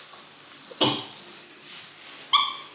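Small pet dogs bark and yip in short, close bursts mixed with high whimpers, several quick sounds across a few seconds at fairly near range.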